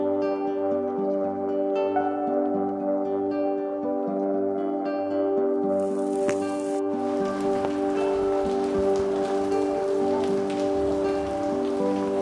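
Steady rain patters continuously on a surface, loud and close, with a sustained humming tone running underneath, at the Film and Television Institute of India.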